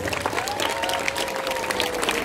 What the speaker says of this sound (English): Really, give a clap for them.